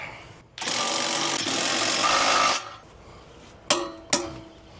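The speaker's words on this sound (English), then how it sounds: "this is where the torque wrench starts coming in hand" A power tool runs a bolt down for about two seconds while an RV hitch is adjusted, a loud close whir, followed by two sharp metallic clicks from a wrench.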